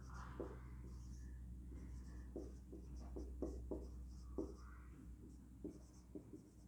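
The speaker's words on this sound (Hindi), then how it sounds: "उसके बाद हम लिखेंगे सिद्ध करना है" A pen scratches on paper while someone writes out a Class 9 geometry proof about quadrilaterals, making faint, quiet strokes in an uneven rhythm.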